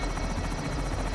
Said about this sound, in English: Heads up on the helo.